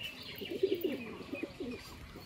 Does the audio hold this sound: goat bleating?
no